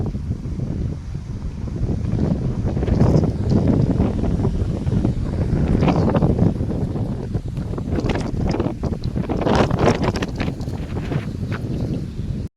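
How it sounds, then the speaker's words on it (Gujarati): Strong wind on a farm roars and buffets the microphone in a constant, heavy rumble that surges and eases, with no voices present. "જુઓ બહુ આજ જોરદાર પવન છે"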